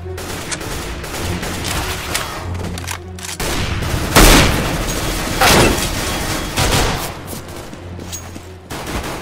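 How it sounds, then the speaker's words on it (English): A flashbang grenade bursts in the game CS:GO, a loud sharp bang around the middle of a busy stretch of close rapid gunfire and booming shots. "Throwing a flashbang!"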